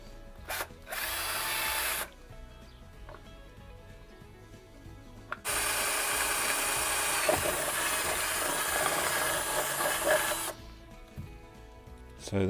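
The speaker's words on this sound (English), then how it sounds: "I'm just going to pop this drill bit into my drill and drill a hole through the bottom of the bottle" An electric drill whirs through the bottom of a plastic bottle in two bursts, a short one and then a longer steady run of several seconds, loud and close, with quiet handling noise between.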